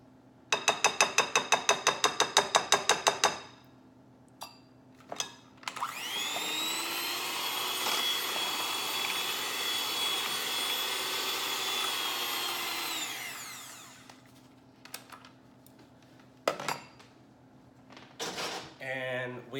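A kitchen blender mixes keto cheesecake filling in one sustained whir of about seven seconds, preceded by a rapid rhythmic clatter and followed by scattered knocks and clicks from scraping and handling.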